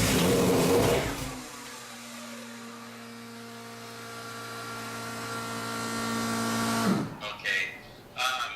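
A Toyota 2JZ engine turns over and is blipped on the throttle as it tries to fire, giving a whining, droning tone that rises and then cuts off, followed by brief clatter and people talking.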